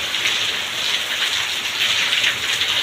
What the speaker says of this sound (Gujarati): તમે જોઈ શકતા છો કેટલો બધો વરસાદ પડતો હતો